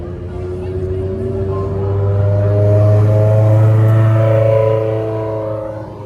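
A Ferrari 360 Challenge Stradale drives past with a loud, steady engine drone that swells to its peak mid-clip and then eases off as the car moves on. Speech is faintly present underneath.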